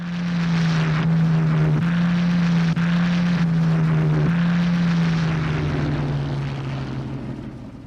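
Loud droning of a World War II American fighter's propeller engine, a steady low roar held close throughout that eases slightly toward the end, with no speech over it.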